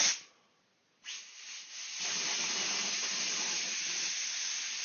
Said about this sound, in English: just to give you an idea of how much steam's coming out of it